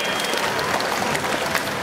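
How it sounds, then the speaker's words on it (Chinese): An audience claps for the sea lion show at Farglory Ocean Park in Hualien, a dense, steady burst of applause from a crowd, loud and continuous through the short moment. "也给红队是掌声鼓励"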